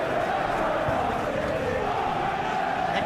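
A stadium crowd murmurs and roars steadily in the PES 21 football game during a Liverpool versus Real Madrid Champions League match, a continuous dense wash of many voices with no clear peaks.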